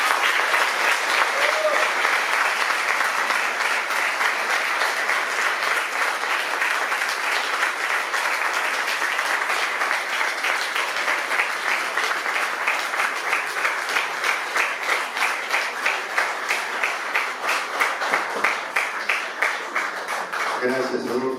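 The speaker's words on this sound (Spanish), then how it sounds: "Gracias, Adolfo, merecido aplauso." Sustained applause from a large audience fills the room after a talk, steady dense clapping that continues throughout and swells slightly near the end.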